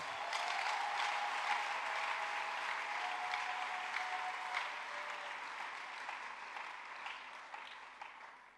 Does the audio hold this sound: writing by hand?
no